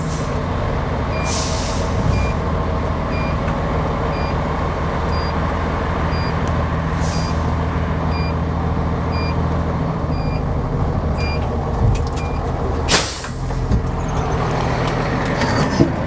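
A fire department ladder truck with a 75-foot rear-mount ladder pulls out of the station, its engine idling and rumbling steadily while repeated reversing beeps sound and several sharp air-brake hisses burst out over the drone.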